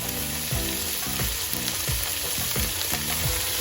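Green peas stirred into boiled potatoes frying with ginger and garlic in a pan, steady close sizzle with regular scraping stirs about twice a second.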